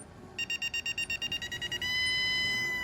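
A radio tracker tag on a Hallmark toy bell emits a rapid series of high, evenly spaced beeps, then shifts into one sustained tone, close and clear.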